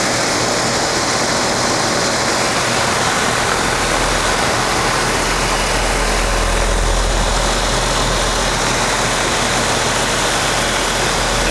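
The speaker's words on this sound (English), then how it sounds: "reciprocating compressor" A 2004 Carrier 3-ton heat pump's reciprocating compressor runs outdoors, a loud, steady low hum and rumble with broadband fan noise that holds constant throughout.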